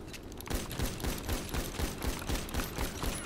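Rapid gunfire from a GTA roleplay game, a dense volley of repeated shots in a steady burst that is loud and continuous throughout.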